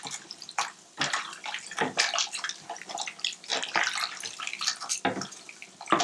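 Tap water runs and splashes over food being rinsed for cooking in a kitchen sink, a steady broadband gush broken by brief splashy surges, fairly close and heard alone without talk.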